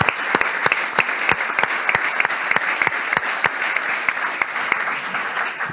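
Moderate applause from an audience at a civic ceremony in Nîmes honouring local elected officials, with distinct individual claps audible over a softer wash of clapping throughout.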